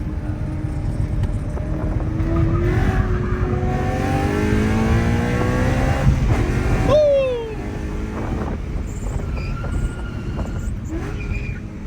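A 550 hp Mercedes C63 AMG engine revs hard, rising through rapid climbing pitch sweeps with a loud, rough exhaust note, then cuts sharply around midway and settles into a lower, quieter rumble with brief further blips.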